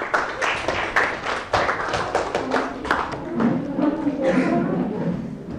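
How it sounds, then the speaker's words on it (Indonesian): Applause from a group of participants in a classroom training session, a fairly dense run of claps heard close by with some background voices and shuffling underneath. "Kasih tepuk tangan dulu."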